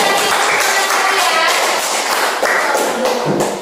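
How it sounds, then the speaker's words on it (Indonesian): A classroom of fourth- and fifth-grade pupils claps hands together in a dense, steady burst of applause that fills the whole stretch at close range. "beri tepuk tangan atas ya"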